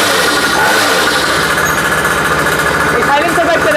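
Petrol-powered kids' bike with a small engine running loud and steady close by, a continuous buzzing drone with slight flutter, while someone talks over it.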